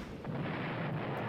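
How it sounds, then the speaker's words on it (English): An Italian anti-tank cannon fires a single shot against a damaged Valentine tank in the WWII strategy game Panzer Corps, a booming blast with a short rumbling tail. "We can fire it with our Italian anti-tank cannon."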